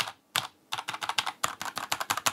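Genesis Thor 404 TKL mechanical keyboard with brown and yellow switches and sound-dampening foam inside, typed on up close in quick bursts of crisp clacks with short pauses between runs, no voices.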